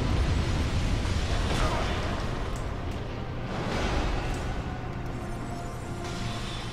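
Fire attacks in the Dark Souls 2 boss fight against Elana, the Squalid Queen, a continuous roaring rumble of flames with several dull bursts, while a voice talks over it.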